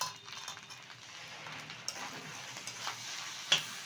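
Leftover cooked rice, seasoned with black pepper powder, is stirred in a frying pan: a soft sizzle underneath, with light scraping and occasional clinks of the utensil against the pan, fairly quiet and close.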